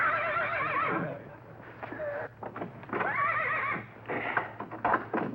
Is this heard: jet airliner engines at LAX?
no